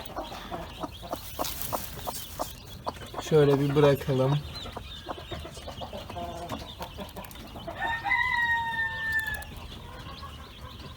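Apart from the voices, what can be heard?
hen clucking with chicks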